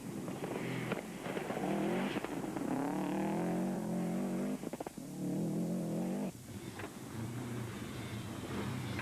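Joe Curran's rally car at the 2003 NEMC Punchestown rallysprint revs hard through corners, engine note rising and falling with gear changes, fairly loud and close, with brief drops between bursts.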